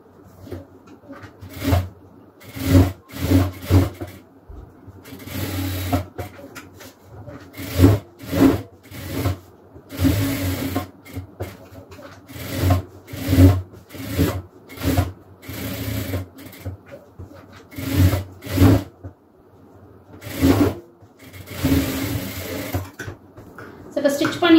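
A sewing machine stitches around a pencil pouch made from rice-bag fabric, running in repeated short bursts with brief pauses between them, fairly close and clear throughout.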